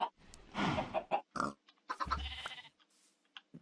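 Minecraft pig sounds: several short, close oinks and grunts in quick bursts with brief pauses between, fairly loud and heard without speech.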